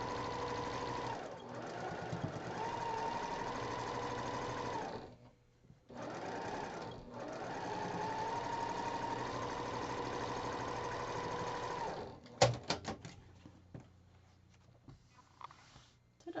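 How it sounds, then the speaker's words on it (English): A sewing machine stitches a quilt block seam in two long steady runs separated by a short pause, ending with a few sharp clicks and knocks close by. "I'm sewing with the star leg part on top, so I can make sure that I don't cut off my points there"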